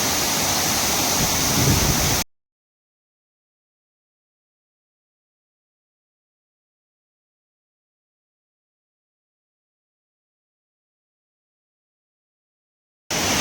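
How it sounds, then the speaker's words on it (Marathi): Water pours over the overflow of the Chorkhamara dam in a loud, steady broadband roar for about two seconds, then cuts to silence before briefly returning at the very end. "इथं मित्रांनो खूप आवाज येत आहे ओव्हरफ्लोचा"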